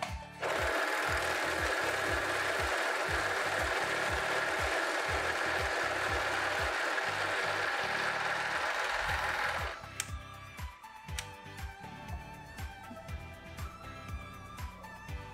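A Sun Special SS-320 domestic overlock machine sews a test seam in a loud, dense, close burst for several seconds. It then falls quiet, leaving scattered mechanical clicks and handling noises.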